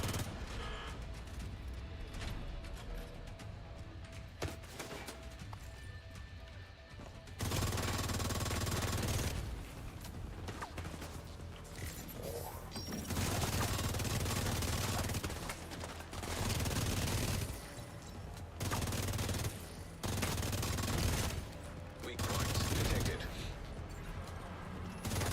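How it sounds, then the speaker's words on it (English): Sustained bursts of automatic gunfire from enemies in The Division 2 video game, dense and loud throughout, with dips and resurges as shooting continues, mixed with game effects and someone talking over it. "Who's shooting me like this,"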